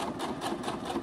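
A sewing machine runs steadily, stitching forward and back to finish a seam on a fabric budget envelope, a faint, even mechanical hum with a soft rhythmic patter and no voices.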